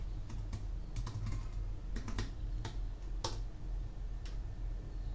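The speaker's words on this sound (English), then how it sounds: "We're going to retype it." Typing on a computer keyboard during a Vesta control panel install on Ubuntu 16.04, with irregular clusters of crisp key clicks and scattered single taps over a steady low hum, no voices.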